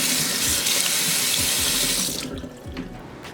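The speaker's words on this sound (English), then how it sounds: "the first thing you want to do is go ahead and wash your aloe vera" Tap water running into a sink while fresh aloe vera leaves are washed, a steady close rushing stream that thins and breaks up toward the end.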